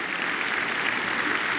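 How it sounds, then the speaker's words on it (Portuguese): A brief burst of steady clapping from a gathered audience, even and fairly loud from start to finish. "E vamos aplaudir o Senhor."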